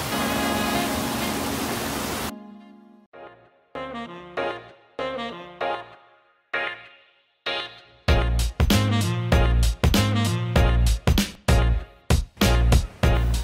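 Chota waterfall near Shahapur, Maharashtra gives a steady, loud broadband rush for about two seconds before music takes over.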